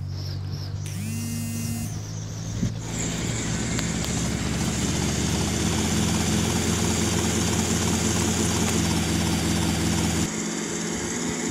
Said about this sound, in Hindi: मेरे को जो है हेलीकॉप्टर लेना पड़ेगा, हेलीकॉप्टर के अंदर जाना पड़ेगा